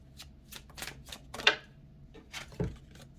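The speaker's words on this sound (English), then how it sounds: "let me pull the cards" Tarot cards are shuffled by hand, a quick run of crisp papery riffles and flicks close to the microphone, ending with a soft thud as the deck settles.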